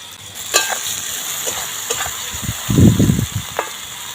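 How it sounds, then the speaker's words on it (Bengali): Potatoes and spice paste fry in a pan, a steady sizzle running underneath while a spoon scrapes and stirs in short bursts, with a louder, thicker stirring flurry near the end; no one speaks. "আলুটা ভালো করে নেড়ে নিয়েছি আর মশলাটাও কষছি"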